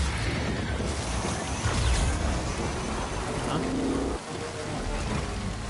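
Steady rain hisses continuously in a PS5 video game, a dense wash of falling water that briefly softens near the end.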